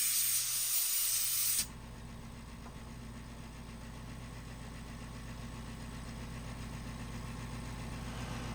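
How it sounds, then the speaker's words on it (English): A Deft polyurethane spray can lets out a short, sharp hiss of finish onto burl wood, lasting under two seconds, then gives way to a steady low background hum. "used the Deft polyurethane spray can"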